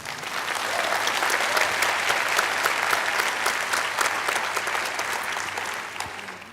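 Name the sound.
applause for a speaker at an opening ceremony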